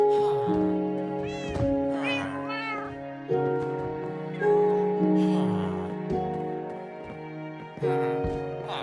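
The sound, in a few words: cat meowing in the video game Minecraft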